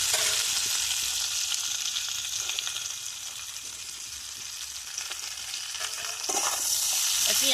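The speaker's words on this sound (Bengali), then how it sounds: "এগুলো এর সাথে আমি ভালো করে ভেজে নেব" Sliced onions and fried potatoes sizzle together in a pan of hot oil, a steady close crackle with soft stirring scrapes that swells louder near the end, with no voices.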